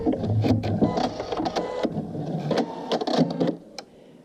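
A sewing machine back stitching through vinyl while sewing a wrist strap, its rapid mechanical needle chatter running in short bursts with brief pauses, close and fairly loud.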